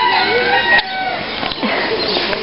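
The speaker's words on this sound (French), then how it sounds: "Donc voici un petit coq qui chante." A bantam rooster crows among dwarf hens at an animal park, a loud, close cock-a-doodle-doo with clucking and other fowl calls around it.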